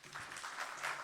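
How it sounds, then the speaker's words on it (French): A conference audience applauds a speaker, a dense steady patter of clapping hands filling the room, moderately loud, in a short burst. "On peut l'applaudir."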